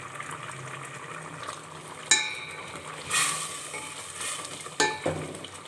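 Vermicelli stirred in a pan on the stove, a soft steady sizzle with a few sharp scrapes and clinks of the spoon against the pan, no voices.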